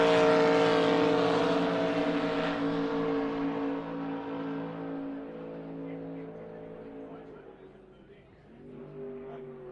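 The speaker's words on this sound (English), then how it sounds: "Let's sit back and listen to this beautiful sounding boat as it comes past" A high-performance racing boat from the X100 category powers past at a race meeting, its loud, harmonic engine note strong at first then gradually fading and dropping in pitch as it moves away, with a brief rise near the end.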